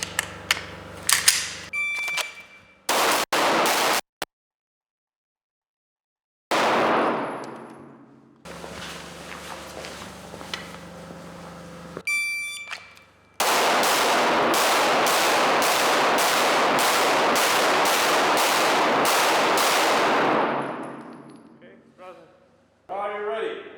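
Pistol fire on an IPSC practical shooting course, shot stationary against a timer: sharp, loud shots in bursts, with a long sustained rapid string of evenly spaced reports near the end, and silent gaps between strings.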